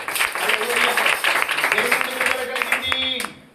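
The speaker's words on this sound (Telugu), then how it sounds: "గట్టిగా చప్పట్లు కొడదాం ఒకసారి." A church congregation at a Telugu Sunday service claps together, a dense burst of applause with a preacher's voice over it, fading out toward the end.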